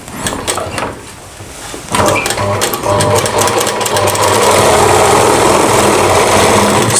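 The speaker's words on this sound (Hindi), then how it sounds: "यहाँ पे हमें सिलाई लगा देनी है कुछ इस प्रकार से" An electric sewing machine runs a seam on a lehenga, starting after a brief quieter moment and then droning loudly and continuously at a steady speed to the end.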